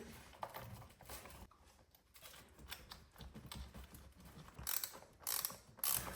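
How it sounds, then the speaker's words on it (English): A wrench tightens toilet mounting brackets onto a base plate, giving quiet close ratcheting clicks in irregular bursts with pauses between them. "now we're just going to use our wrench to secure the mounts to the plate here"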